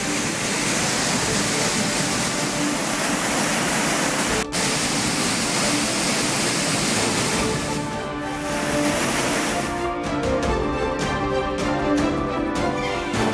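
Main falls at Courtallam in Tamil Nadu after heavy rain, a loud, unbroken roar of crashing water filling the whole clip, close and constant.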